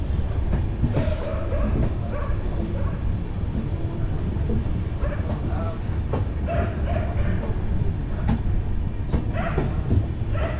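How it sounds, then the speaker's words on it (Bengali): The Balurghat Express rolls into Bandel Junction with a continuous heavy rumble and scattered rhythmic wheel clicks throughout, loud and close, with faint background chatter. "নির্দিষ্ট টাইমের আগেই আমাদের ট্রেন ঢুকে গেছে"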